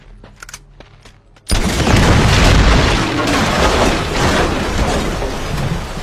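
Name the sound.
explosion blowing up a gate in video game Uncharted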